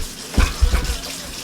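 Kitchen tap water running over metal tongs being rinsed, a short splashing gush with a couple of brief surges, close by.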